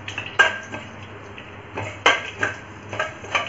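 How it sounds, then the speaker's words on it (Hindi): Fenugreek seeds being stirred in hot oil in a pan, with cloves, black pepper and curry leaves, for Marwari kadhi; a spoon clinks and scrapes against the metal pan in several sharp knocks, close and clear with no voices. "मेथी दाने को हिलाते हुए हम राई डालेंगे और सौंफ"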